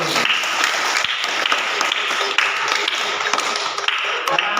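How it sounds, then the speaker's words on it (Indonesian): A group applauds during a coaching session for academic supervision, a dense, even patter of many hands clapping that runs continuously and fairly loud throughout, with no talk over it. "Berikan tepuk tangan untuk nomor 1."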